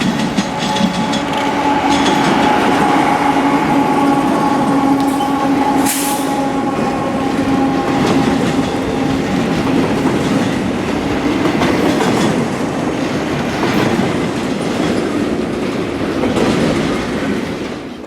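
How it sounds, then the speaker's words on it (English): A southbound intermodal freight train pulled by GE locomotives passes near and loud, a sustained engine drone and humming tones over rolling wheel clatter, with a sharp burst partway through and steady rumble continuing as cars go by. "our first train here would be some southbound intermodal with, what would you know, yet another standard boring GE lash-up."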